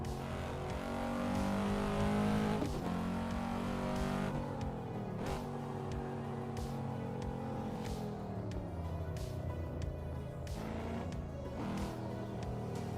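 Race car engine from the Assetto Corsa driving simulator drones steadily throughout, with shifting pitch as it revs and eases through gear changes, loud and continuous with no talk over it.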